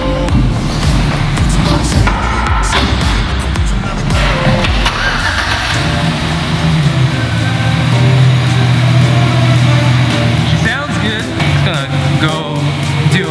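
A 2007-2013 Chevy Silverado engine with new spark plugs and wires runs loud and close, a rough, busy mechanical roar settling into a steadier, humming idle with a low drone, voices briefly heard over it.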